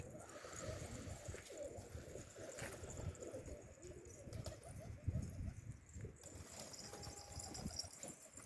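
Racing pigeons coo in a low, soft murmur at a loft, with rustling and fluttering, faint background noise, and a thin whistle near the end.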